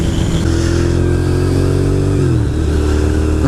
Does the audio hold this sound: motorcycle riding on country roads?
yes